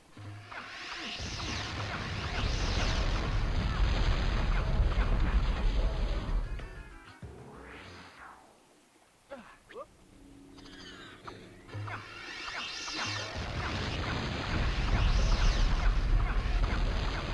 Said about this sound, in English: Did no one ever tell them how poorly the audio balancing for these rocket attacks was?